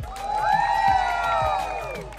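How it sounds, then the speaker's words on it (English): An outdoor Diwali mela crowd in Mountain House cheers a dance performance with rising whoops and shouts over scattered clapping, loud and lively, with a few thumps underneath. "let's see audience round of applause now"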